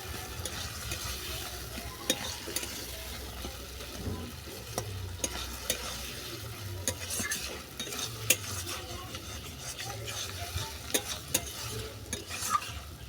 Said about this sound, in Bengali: এই রেসিপি সম্পূর্ণ তেলের মধ্যেই কষাতে হবে আর একবারেই মৃদু আছে রান্না করতে হবে